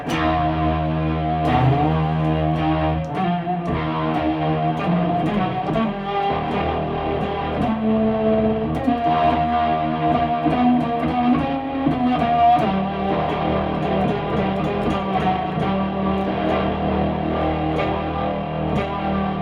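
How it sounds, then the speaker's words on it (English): Distorted music playing through an effects unit, a loud, gritty sustained tone with shifting chords and driving rhythm, continuous with no talking. "I'm gonna take that distortion"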